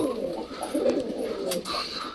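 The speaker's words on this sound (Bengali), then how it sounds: "এটা গিরিবাস পায়রা" A giribaz pigeon coos in low, soft, rolling calls, close and steady, with faint higher chirps from other birds in the background.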